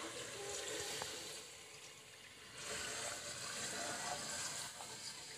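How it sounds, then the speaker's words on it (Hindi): One cup of water is poured into a pan of fried masala, giving a soft, continuous splashing gush that lasts several seconds, faint and close with no talk. "1 कप पानी डालूंगी"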